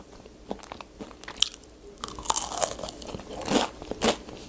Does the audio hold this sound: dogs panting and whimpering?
no